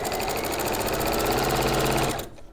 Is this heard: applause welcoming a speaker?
no